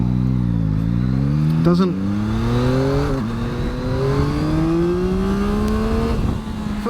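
A Yamaha MT09 motorcycle engine revs hard and climbs through the gears, pitch rising steadily with brief dips at each shift, loud and close with wind noise and a voice speaking briefly.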